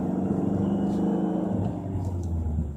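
A car's deep, raspy exhaust with the resonator removed rumbles steadily at idle with slight revving, loud and close, no voices present.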